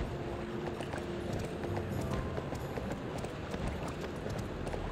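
Galloping horse hooves in the video game Barbie Horse Adventures: Wild Horse Adventures, a fast, continuous clip-clop rhythm at steady loudness over a busy game soundscape.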